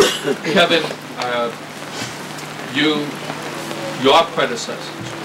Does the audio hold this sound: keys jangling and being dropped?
no